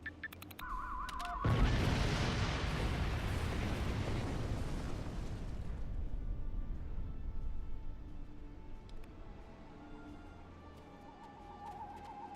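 A loud explosion in the Star Trek Online game bursts in abruptly after a brief tone, a dense roaring blast that holds for several seconds before slowly fading into a lower rumbling tail.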